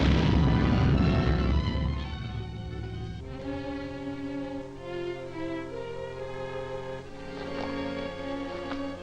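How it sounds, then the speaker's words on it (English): An explosion in a 1941 Captain Marvel serial, a loud boom with rumbling debris at the start that decays into a lingering low tail while dramatic orchestral music continues underneath. "It was a concussion from the explosion."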